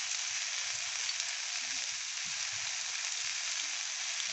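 Ridge gourd and potatoes frying in a pan give a constant, bright hiss of hot oil, steady and close with no stirring or voices over it.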